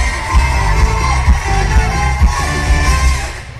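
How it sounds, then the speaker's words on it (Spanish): Crowd at a MinaFest 2020 game-show stage event cheers and yells loudly, with whoops and bangs rising over a dense, continuous crowd roar. "Fuerte el aplauso"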